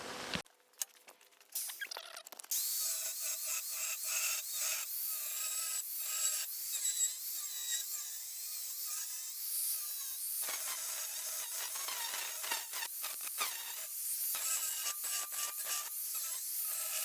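Metal parts for axle housing spacers are cut with a grinder or cutoff tool, giving a steady, loud abrasive whine that runs continuously after a brief start, with small dips in level as the cut proceeds.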